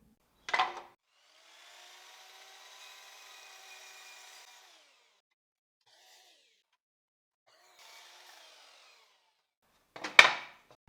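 A power tool trims the ends of wood pieces in two separate passes, each a faint steady whir, with sharper louder bursts at the start and end of the clip.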